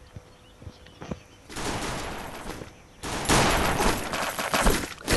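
Rapid automatic fire from a G18 pistol in a shooting video game, dense crackling bursts that start a second and a half in, ease off briefly, then come back louder and fuller through to the end.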